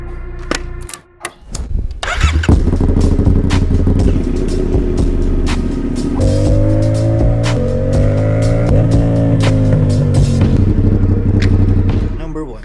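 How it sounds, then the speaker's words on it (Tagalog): A motorcycle exhaust runs loud and close, with a deep rumbling idle that swells into revving, its pitch rising and falling before settling back, steady throughout with no talking. "Nare-record nito kahit sobrang lakas ng exhaust ng motor ko."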